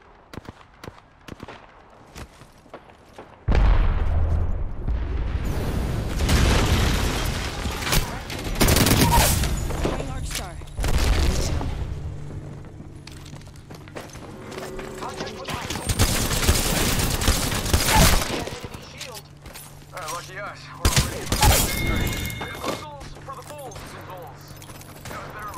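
Video game firefight with bursts of gunfire that come and go, loud and dense in several stretches and sparser shots in between, with in-game voice lines and other game sounds mixed in.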